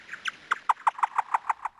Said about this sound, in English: Those calls were changed by a computer so that humans can hear them.